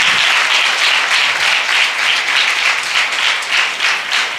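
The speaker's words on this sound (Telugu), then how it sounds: "సంతోషంగా ఉన్నవారంతా కూడా చప్పట్లు కొట్టి దేవుని మహిమపరుద్దాం." At a 29th anniversary service at Bethesda Church, Utnoor, a church congregation claps hands in praise: loud, sustained applause with a rhythmic pulse running through it, close and filling the room.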